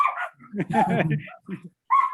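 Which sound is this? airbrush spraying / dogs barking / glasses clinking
dogs barking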